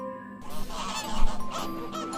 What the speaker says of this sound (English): These are goose.